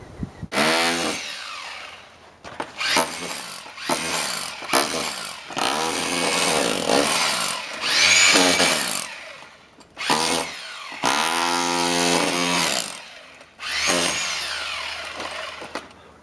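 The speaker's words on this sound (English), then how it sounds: "The reason Jason's using that Hilti is because if you use a hammer, you push the already deteriorated paper into the wood" Hilti power tool knocking out stucco over brick and concrete block, loud rough revving bursts that start and stop repeatedly, close by with pauses between runs.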